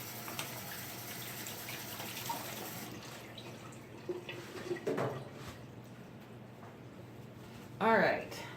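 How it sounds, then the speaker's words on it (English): Running tap water rinses hands at a kitchen sink while cream cheese is portioned, a steady wash of flow for the first few seconds that then fades to quieter handling and a brief splash near the end. "Let me rinse my hands off a little bit."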